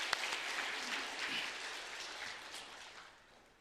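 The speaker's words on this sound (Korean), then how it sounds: "우리 영광의 박수로 하나님께 영광 돌리겠습니다." A church congregation breaks into applause, a dense wash of many hands clapping together that stays steady and then fades softly toward the end, heard at moderate distance without talk.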